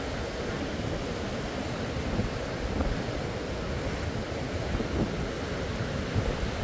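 Strong wind from Typhoon Shanshan roars across a mountain hiking trail, a steady loud rush with buffeting gusts hitting the microphone throughout.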